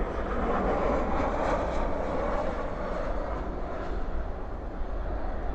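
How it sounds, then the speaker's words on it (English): An American Airlines jet arriving from London Heathrow lands on the far runway at DFW at night, a distant, steady engine roar that fades slightly toward the end, with no talking. "There's American Airlines Flight 153 coming in from London Heathrow,"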